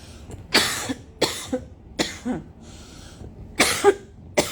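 A person coughs repeatedly in harsh, separate bursts, about six coughs with short breathy pauses between them, close and loud.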